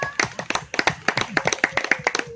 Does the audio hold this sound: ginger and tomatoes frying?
no